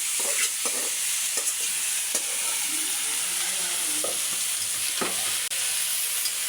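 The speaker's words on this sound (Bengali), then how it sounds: "চালটা একটু ভেজে নেবো" Rice and lentils fry in a pot for khichuri, a steady soft sizzle with scattered scraping stirs and clinks of a spoon against the metal, no voices over it.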